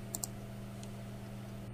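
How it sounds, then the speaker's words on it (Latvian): Computer mouse clicking on images in an interactive educational program: two quick sharp clicks close together, then one fainter click, set over a steady low hum. "Es klikšķinu uz attēliem, lai uzzinātu vairāk par dažādiem dzīvniekiem."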